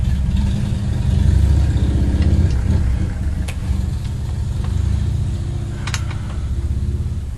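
A motorcycle engine rumbles steadily throughout, a low continuous drone that swells slightly early on, with faint scattered clicks over the top.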